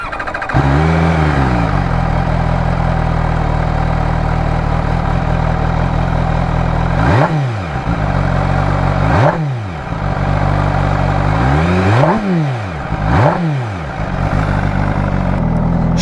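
An MV Agusta Brutale 1000 RS motorcycle revs while stationary, its loud, steady engine note climbing in several sharp blips over a rumbling idle, all up close with no voices.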